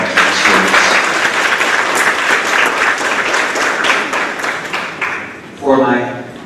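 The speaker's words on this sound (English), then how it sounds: "Let's give another round of applause to the students." Audience applause for students at a grades 4-6 school awards ceremony, a sustained burst of many hands clapping in a hall that fades out as a voice begins speaking.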